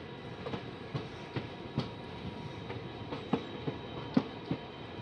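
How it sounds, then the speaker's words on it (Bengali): Train rolling slowly at Kulem station, with a faint background rumble broken by a series of sharp, irregular wheel clanks and clicks over the rails, heard from nearby. "এই ট্রেনটা যাবে এখন।"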